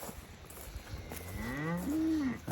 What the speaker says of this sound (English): The cows are watching me.